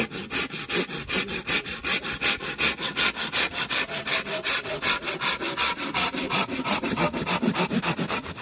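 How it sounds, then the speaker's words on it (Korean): Rhythmic rasping strokes of a hand saw biting through bamboo, fast and even back-and-forth cuts, close and loud, with no talking. "어우 톱질 잘나."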